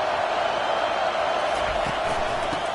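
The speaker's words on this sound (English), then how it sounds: "This crowd bringing the energy and noise early." A college football stadium crowd roars in a steady, dense wash of many voices, loud and constant throughout, with faint commentary beneath.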